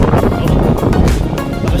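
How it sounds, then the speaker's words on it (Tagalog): Strong wind buffets the microphone during an outdoor jog, a loud, continuous rumbling roar that fills the whole clip. "Lakas ang hangin."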